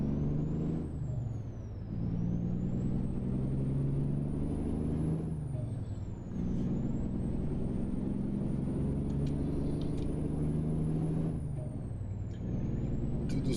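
An American truck rolls slowly along, its deep engine rumble steady and close throughout, with a brief dip in loudness and a hissing, whistling air-brake character riding over the drone.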